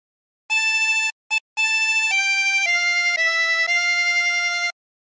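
Hark the Herald Angels Sing played on a 24-hole tremolo harmonica, a string of sustained wavering reedy notes after a short pause, including two brief opening blips, then a steady melodic line, close and clear.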